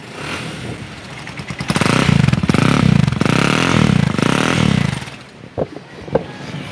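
A used motorcycle at a Pakistani bike dealer idles and is revved in steady loud bursts for several seconds, then cuts back to a few short blips of the throttle, close to the microphone with no talking.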